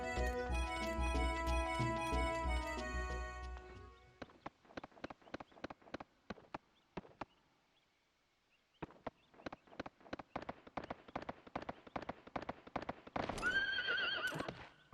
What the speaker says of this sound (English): Also, we have a horse.